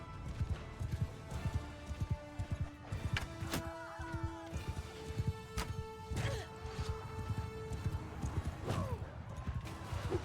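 Horse hooves clip-clop in the medieval combat game Mount and Blade II: Bannerlord, a loud, quick rhythmic run of hoofbeats mixed with sharp clashing impacts and a brief whinny, heard alone without talk.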